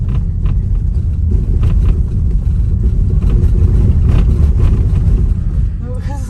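Steady road rumble from a Tesla electric car driving on the road, a continuous low hum of tyres and motion filling the cabin throughout, with people talking over it.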